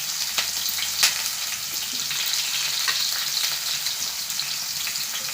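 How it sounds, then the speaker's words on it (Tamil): Onion pieces and chili fry with popped mustard seeds in a pan of hot oil, giving a steady close sizzle with occasional crackles and stirring scrapes, no voices. "சேர்த்துட்டு இது இரண்டும் நல்லா பொன்னிறமாக வதங்கி வர்ற பதத்துக்கு நல்லா வறுத்து எடுத்துக்கலாம்"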